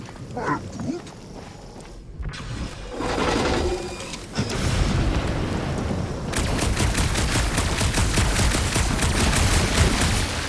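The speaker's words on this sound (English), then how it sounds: "Shooting your way out of every problem again, Peter." Gunfire in the action game Guardians of the Galaxy builds from scattered shots and rustling noise into a long, dense, rapid volley of blaster fire that stays loud and steady to the end.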